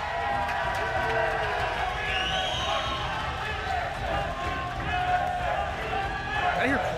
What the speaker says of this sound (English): That's an SSG chant if I've ever heard one, Tony